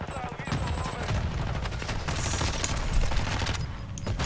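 Rapid gunfire rattles in Warzone 2: dense, continuous volleys of sharp shots, loud and close, running without pause through the whole moment.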